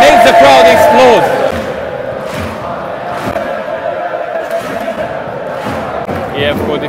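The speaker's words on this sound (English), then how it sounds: "this makes the crowd explode" A packed football stadium crowd at IFK Göteborg against Hammarby erupts in a loud roar of cheering that swells at first and then settles into a sustained rumble of voices.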